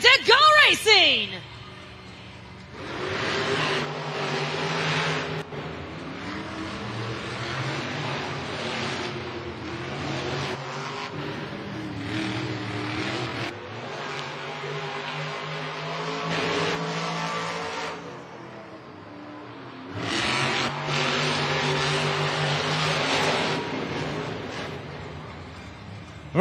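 Monster trucks race in a Monster Jam stadium event in Pittsburgh, their loud engines roaring and revving steadily for most of the stretch, with a brief lull before a fresh surge of engine noise; an announcer talks over the racket.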